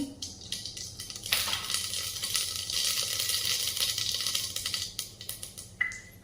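Mustard seeds sizzling and popping in a spoonful and a half of hot oil in a pressure cooker pan, a steady crackling hiss with scattered sharp pops and a few metallic clinks, close by, no voices.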